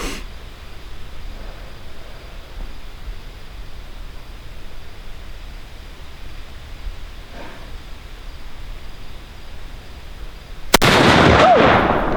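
A single loud gunshot from a 45-70 shotgun insert fired at a 15-meter target during bear season practice, a sharp near crack followed by a ringing tail, after a long stretch of quiet outdoor ambience.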